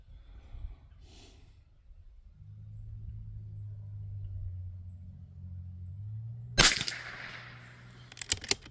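A single .22 LR round from a Bergara B14R rifle loaded with Monarch ammunition cracks sharply, close and loud, followed by a brief rumble, after a low steady engine-like hum.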